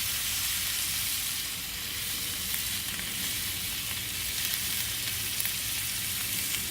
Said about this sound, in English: I'm going to sear one side off. Get that oil distribute a little bit.